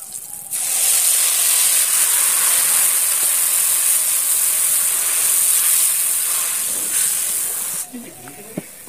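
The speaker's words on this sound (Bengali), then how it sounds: "আমার ঝোলটা ফুটে গেছে" A pan of Bengali fish curry broth with mustard paste, turmeric and chili gives off a loud, steady, hissing bubble for several seconds before cutting off abruptly, leaving faint clinks.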